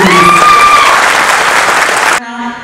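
An audience at a film first-look launch event applauds Allu Aravind, a dense burst of clapping that fills the room and then cuts off abruptly.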